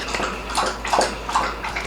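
A dog laps water from its bowl at close range, giving a run of wet, rhythmic slurps and sloshes in quick bursts with no voices.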